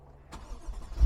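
A 2012 Mercedes E550 Cabriolet's engine cranks and catches, a brief starter whir rising into a loud, swelling roar heard close from inside the car.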